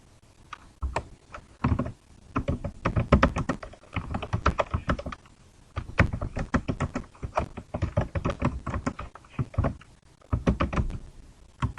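Fast typing on a computer keyboard: close, crisp key clacks in quick irregular bursts separated by brief pauses, with no speech.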